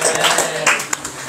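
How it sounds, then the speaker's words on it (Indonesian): Students in a classroom give a brief burst of applause for a class group, with quick, bright claps over a short moment. "Beri tepuk tangan untuk kelas"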